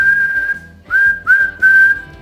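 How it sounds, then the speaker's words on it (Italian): A person whistles a steady, clear tone alone, with short pitch bends that scoop up into the note. "Quando noi fischiamo,"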